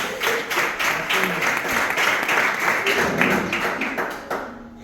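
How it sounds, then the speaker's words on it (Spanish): Church congregation applauding together at a sermon, a steady roll of clapping at close to moderate distance, tapering off at the end with no speech over it. "¿Cuántos le pueden dar un fuerte aplauso?"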